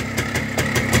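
Minsk motorcycle engine idling close by, a steady, loud putter with a regular pulsing beat and no voices.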